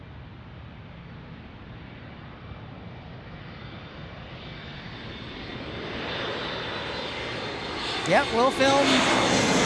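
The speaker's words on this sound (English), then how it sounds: "American Airlines A321 right there." An American Airlines A321 jet at San Diego airport builds from a broad, distant roar to a louder, closer rush with rising whine, while someone talks briefly over it.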